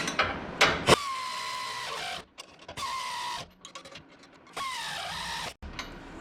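Whirring bursts of a power tool snug the suspension bolts on a Bricklin SV1, several short rising buzzes separated by pauses and faint clicks, close and clear.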